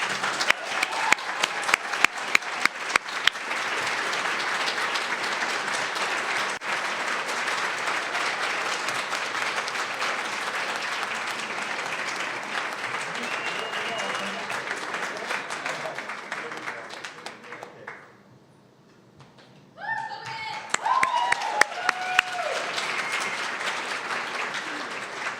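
Sustained applause from a commencement awards ceremony audience, loud and steady for about eighteen seconds, then dipping almost to silence before the clapping and cheering pick up again.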